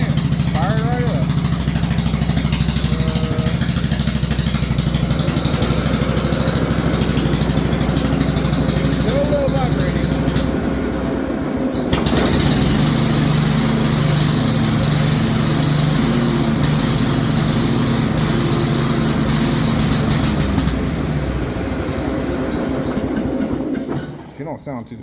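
A Bolens 38-inch riding mower engine runs loud and steady close by, a constant rumbling drone with a shift in tone partway through, while someone talks over it before it cuts off.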